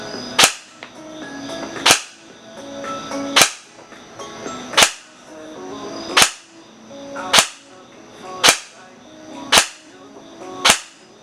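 A G&G ARP9 airsoft gun fires single 0.2 BB shots through a chronograph, nine sharp close cracks spaced roughly a second and a half apart, with a faint mechanical hum between them.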